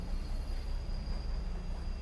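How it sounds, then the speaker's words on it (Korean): A subway train starts to move, giving a steady low rumble with a thin high electrical whine, continuous and moderately loud with no voices. "출발한다는 안내 멘트와 함께 지하철은 움직이기 시작했어요."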